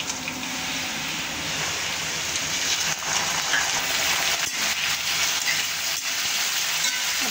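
Chopped potatoes and chillies frying in peanut oil in a pan, a steady dense sizzle running throughout with no talk.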